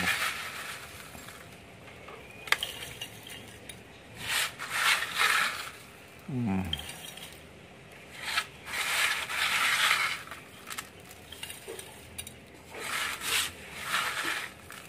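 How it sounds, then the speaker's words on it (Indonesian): Electronic scrap crushed in a sturdy hand-fed grinder for gold recovery, giving irregular bursts of rough rasping and clattering mechanical grinding with short pauses between, fairly close and moderate in level, no talk. "Kita giling ke sini."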